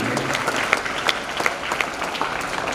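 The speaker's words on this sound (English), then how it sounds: "Let us give a big round of applause to all our children who have participated in today's event." An audience at an Independence Day celebration program claps steadily for participating children, a dense, even applause at moderate distance with no voices standing out.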